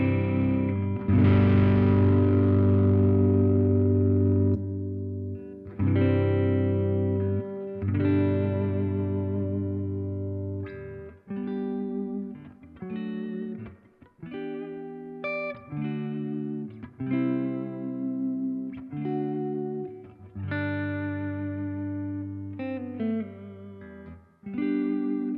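An electric guitar plays through a Laney Lionheart Foundry Super60-112 amp with reverb modeled on the Secret Path Black Country Customs unit. Distorted chords and single notes ring out and trail off in a steady rhythm, with no talking.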